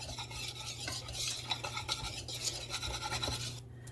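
Bare hands toss raw carrots coated in smoked paprika, a close, continuous wet rustling and squelching with faint clicks, fading out abruptly at the end.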